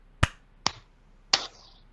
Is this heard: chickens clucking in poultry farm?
no